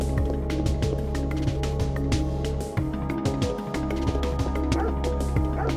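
Two police dogs in a kennel in the Parasite Eve video game bark in repeated short yips over a droning game soundtrack, fairly loud and rhythmic throughout.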